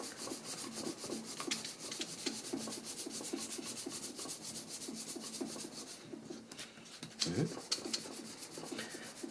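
A knife blade is stroked up and down on sandpaper for sharpening, moving across to fresh grit as it dulls, making a steady close rasping rub in repeated strokes with a brief louder scrape near the end.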